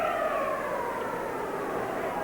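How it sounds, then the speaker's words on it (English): Ice hockey arena siren ending the second period of a 1981 playoff game between the Philadelphia Flyers and Quebec Nordiques, a steady wailing tone sustained loudly over crowd noise from start to finish. "There's the siren to end the second period."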